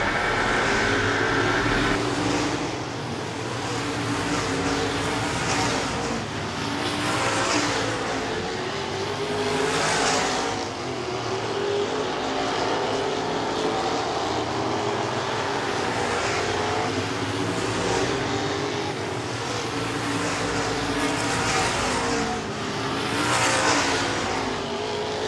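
Superior Auto Modifieds race cars lapping Angola Motorsport Speedway on championship night, a sustained loud engine roar with cars repeatedly swelling past and fading, crowd-level ambience beneath.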